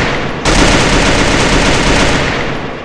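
Sustained rapid automatic SCAR rifle fire in the video game Free Fire, loud and close, starting abruptly and continuing as a dense burst of shots with no speech over it.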